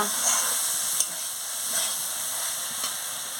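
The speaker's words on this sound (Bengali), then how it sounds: "আমি ধনে পাতাটা দিয়ে দিচ্ছি দিয়ে ভালো করে নাড়িয়ে নিচ্ছি" Ash gourd and pea curry with fresh coriander is stirred in a frying pan, giving a steady hissing sizzle with a few soft scraping strokes and one sharper clink near the middle, close and moderately loud.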